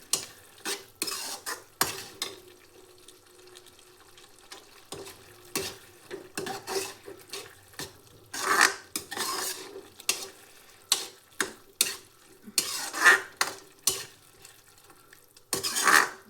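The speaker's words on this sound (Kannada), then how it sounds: "ಮತ್ತೆ ಚೆನ್ನಾಗಿ ಮಿಕ್ಸ್ ಮಾಡಿ." A spoon stirs tomato gojju in a pot with scraping, clinking strokes in irregular bursts, close and fairly quiet, with a soft simmer between them and no voices.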